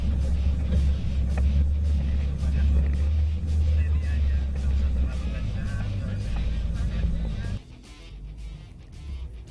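A vehicle on an off-road track near the Padalarang stone garden geopark rumbles heavily over rough ground, a loud low drone with bumps and rattles that drops in level near the end.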